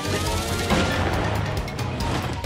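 Explosion attack in Paper Mario: The Thousand Year Door, a loud, dense burst of crashing, booming game noise that sustains for a couple of seconds with no talking over it.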